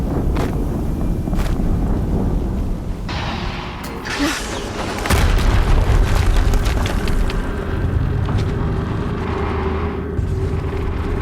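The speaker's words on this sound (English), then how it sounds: "Another explosion." Heavy explosion in the video game Horizon Zero Dawn at Maker's End: a low rumbling bed of battle noise swells into a loud, sustained booming blast midway, followed by rolling, crackling aftermath.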